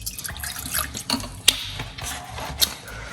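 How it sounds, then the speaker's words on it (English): Container being rinsed under a running kitchen tap, with splashing water and a couple of sharp knocks or clinks against the sink, close and brief. "I have to rinse out this."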